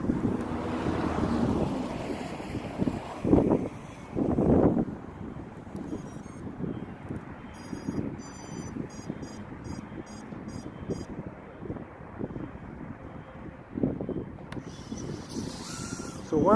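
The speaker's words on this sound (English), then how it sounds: "Still windy out here." Gusty outdoor wind buffets the microphone in continuous low rumbling rushes during a small FPV drone flying session, with louder bursts early and near the end and a faint whine from the drone passing in between.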